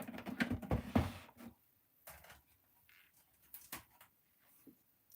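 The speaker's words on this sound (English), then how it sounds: "I'm just going to go ahead and cut this out." Paper card base being cut out for a handmade card, a dense flurry of quiet snipping and rustling at first, then sparse, faint cutting clicks with pauses.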